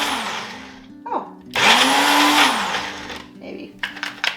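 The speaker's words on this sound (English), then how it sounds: "I'm just going to pulse this and mix these together, and hopefully they'll make sort of a pasty substance, because again, this is just my beverage smoothie blender" A beverage smoothie blender pulses kimchi ingredients into a paste, with a loud whirring burst that ramps up, holds, then winds down, plus shorter spurts and clatter around it.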